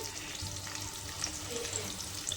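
Onions with turmeric roast in a pan, a steady dense sizzle and crackle of frying oil throughout with a few brief spits standing out, close and even, no talking.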